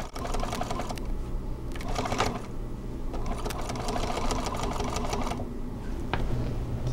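A sewing machine stitching cording into a boxed cushion, running steadily with a fast mechanical whir and clatter, with a couple of short pauses while the fabric is turned.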